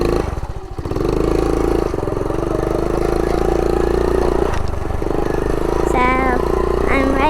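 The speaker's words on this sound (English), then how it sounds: "So, I'm riding this old bike." An old motorcycle, about 52 years old, runs steadily while being ridden, its engine a loud, close, continuous rattling drone that barely dips before holding even, with a brief higher whine near the end.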